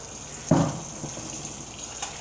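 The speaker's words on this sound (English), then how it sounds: "I'm gonna wash this plate out real good." A plate being washed under a running kitchen tap: a steady hiss of flowing water with a brief splash and clatter as the plate goes under the stream, then continued running water.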